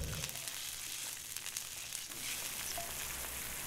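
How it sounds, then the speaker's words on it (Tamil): A pan of liquid bubbles and sizzles steadily at a low, constant level, with no voices. "இதை நல்லா கொதிக்க விடணுங்க ஒரு அஞ்சு நிமிஷத்தில் கொதிச்சிடுங்க"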